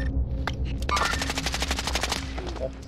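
Rapid automatic gunfire from a video game firefight, a dense stuttering burst running through most of the moment, loud and close with a few scattered shots before it; no talk over it.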